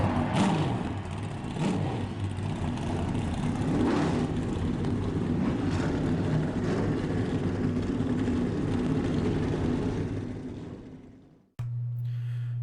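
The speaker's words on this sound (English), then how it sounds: "Let's go trackside for the command to fire engines." Several race truck engines in a sim truck series race at Carbondale start up together, producing a sustained loud, rumbling drone that runs steadily for about eleven seconds before cutting off, followed by a brief lower idle hum.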